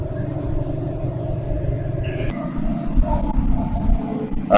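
A motorcycle engine rumbles steadily as a Sunday group ride sets off, a loud, continuous low drone with a sharper burst at the very end.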